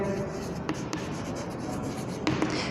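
Marker or chalk strokes on a classroom board while a formula is written, a soft continuous scratching and rubbing with a few brief taps, close and steady with no talking.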